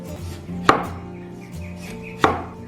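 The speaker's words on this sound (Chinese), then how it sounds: "我们给它切薄片" A knife slices a lemon into thin slices on a cutting board, two sharp chopping knocks about one and a half seconds apart over a faint hum.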